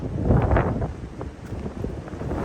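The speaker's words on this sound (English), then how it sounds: "Check out the wind." Wind moving through a forest at Bull Gap on the Appalachian Trail, a steady, fairly loud whoosh and rumble that swells early and then holds, with light rustling and no voices.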